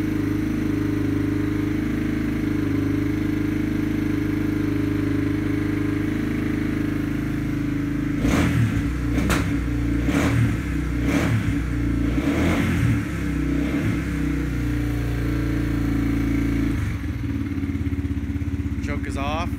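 A Yamaha TTR230 dirt bike idles on choke in freezing cold, a steady close mechanical drone, with several sharp throttle blips in the middle before it settles back to a fast idle.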